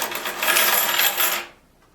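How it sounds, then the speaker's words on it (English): Half dollar coins clinking and jingling together in a box, a dense bright metallic rattle that holds for over a second and then stops, close and alone. "And most surprising of all was a whole bunch of half dollar coins."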